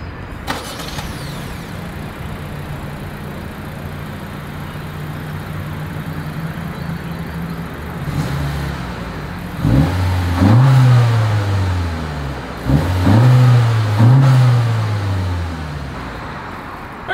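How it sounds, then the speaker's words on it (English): A Honda CR-V engine idles steadily, then revs up loudly twice in quick succession, the exhaust roaring close by before dropping back to idle. "here is that exhaust clip"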